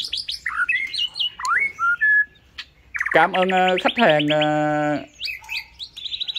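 A caged white-rumped shama sings in bursts of sharp whistles, trills and rich fluting phrases, loud and close, with a brief spoken voice between phrases.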